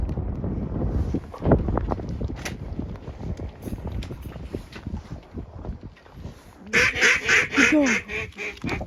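Ducks quack in a loud burst of overlapping calls near the end, after a stretch of wind and rustling noise during a duck hunt on a Louisiana rice field.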